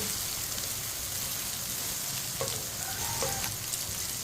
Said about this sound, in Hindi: इसे लाजमी चम्मच चलाते हुए पकाना है